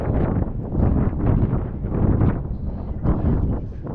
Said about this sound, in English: if it's not windy enough up here, it'll never be windy